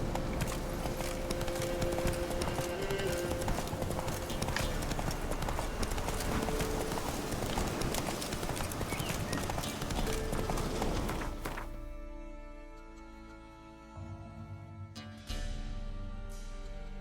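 Roach, the horse in The Witcher 3, gallops with a steady, rapid drum of hoofbeats that runs continuously before cutting off near the end, followed by a few faint, scattered sounds.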